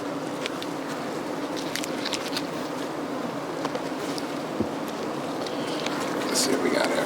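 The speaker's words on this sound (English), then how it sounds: "Baby bees." Honey bees buzz steadily in an open beehive, a dense, even hum with no gaps throughout, swelling slightly toward the end.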